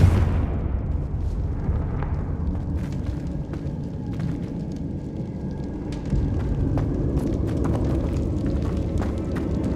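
A Confringo blasting-spell explosion in the video game Hogwarts Legacy opens with a loud burst, followed by a rumbling roar and scattered crackling pops that continue throughout.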